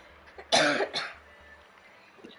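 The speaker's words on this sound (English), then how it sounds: "You just coughed that right in my fucking face," A person coughs during a Rainbow Six Siege gaming session, one sharp close cough followed by a second smaller throat-clearing burst, then quiet room noise.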